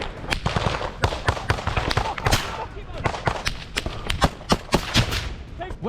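Grenades and small arms fire rattle through a war video game battle. Sharp, irregular bangs and cracks come in rapid bursts, some near and loud, others softer, over a rumbling background.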